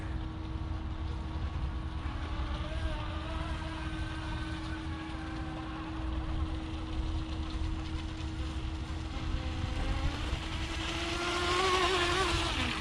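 An RC hydroplane boat running at about three-quarter throttle, a continuous high engine whine with a steady pitch that swells louder and brighter toward the end as the boat nears.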